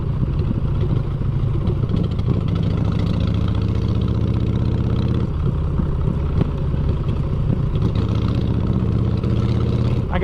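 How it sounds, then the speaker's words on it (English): A low-revving motorcycle engine thrums steadily at idle or low speed, a loud continuous rumble with a slight pulse and no noticeable revving up. "on this motorcycle, this isn't a high revving bike"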